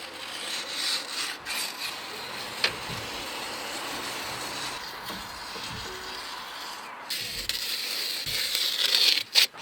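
A blade rasps and rubs along roofing felt as the overhang is trimmed at a house gutter during a loft conversion, a faint, steady scraping that swells louder near the end, with no talking.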